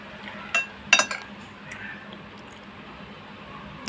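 Spoon and plate clink a few times as homemade khichuri is eaten at breakfast, two sharp close metallic taps followed by softer scrapes over quiet room tone.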